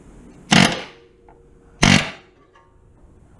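A battery-operated cordless air hammer strikes a suspension part on a 2007-2011 Honda Accord during front strut and upper control arm work. Two loud, harsh bursts of hammering, each about half a second long, are separated by quiet.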